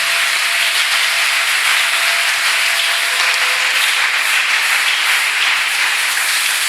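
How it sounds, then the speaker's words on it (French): A church congregation applauding during a Sunday service makes a dense, even wash of clapping that holds steady for several seconds with no one speaking over it. "Est-ce qu'on peut applaudir pour Can la you clap your présence de hands for notre the word Dieu?"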